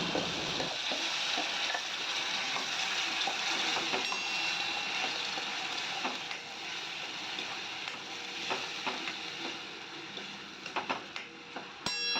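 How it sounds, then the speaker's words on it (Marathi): Ground masala paste fries in oil with a loud, continuous sizzle close to the mic, which eases a little toward the end as a few stirring clicks come through, and no one speaks. "आता जे वाटण वाटून घेतलं होतं ते घालून हे तेलावरती छान फ्राय करून घ्यायचं"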